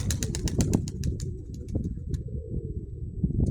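Homing pigeons coo and flutter close by, with sharp wing claps and soft throaty calls over a dense, rustling background.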